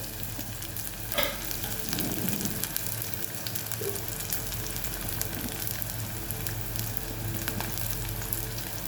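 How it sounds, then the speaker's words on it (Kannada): Onion, cumin and curry leaves fry in hot oil in a pan with a soft, continuous sizzle and crackle, a few stirring scrapes near the start, heard fairly faintly and with no voices. "ಒಂದು 2 ನಿಮಿಷ ಬಾಡಿಸ್ಕೊಳ್ಳಿಕ್ಕೆ ಇದನ್ನು"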